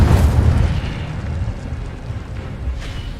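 Incendio fire spell cast in the Hogwarts video game, a loud roaring burst of flame that rumbles and slowly fades, with a faint swish near the end.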